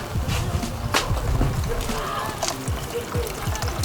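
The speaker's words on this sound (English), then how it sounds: "I should be able to turn the water on and it flush the system" Water gushes loudly and steadily through the coolant system of an Audi A4 1.8T being flushed with a hose, splashing and sloshing close up with irregular knocks and gurgles throughout.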